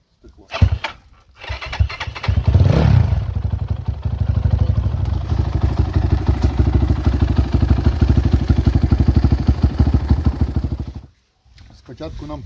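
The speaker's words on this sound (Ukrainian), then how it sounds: "Спочатку нам треба прогріти мотоцикл, щоб масло прогрілося і все добре витекло" A Kovi enduro motorcycle engine cranks, catches and settles into a steady, throbbing idle close by, warming up for several seconds before cutting out.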